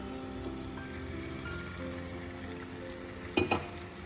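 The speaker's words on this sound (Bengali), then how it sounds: "এবারে আমি এর মধ্যে ম্যারিনেট করা মটনটা এই যে দিয়ে দিচ্ছি" Marinated mutton goes into hot spiced oil, sending up a steady close sizzle and crackle, with a brief clatter of pan and utensil near the end.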